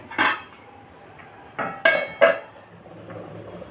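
Ghost chillies being chopped with a knife, four sharp knocks of the blade on a board, close and distinct with short quiet gaps between.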